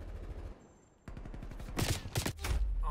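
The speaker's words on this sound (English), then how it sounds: "I'm getting shot from the cross" Rapid video game gunfire in a team shooter, a fast automatic burst followed by several loud, close, sharp shots, with a faint tone and background noise earlier.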